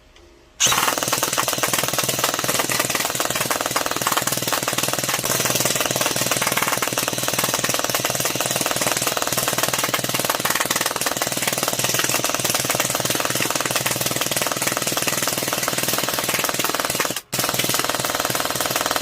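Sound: airsoft electric gun firing full auto

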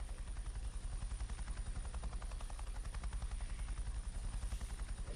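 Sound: helicopter in flight simulator video game with Oculus Rift

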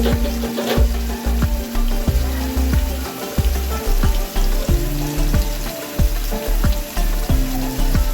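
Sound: onions frying for chicken biryani

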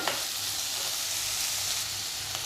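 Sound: sautéing boiled potatoes and peanuts for bhaji

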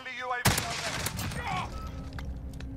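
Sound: VLK Rogue shotgun firing in a video game

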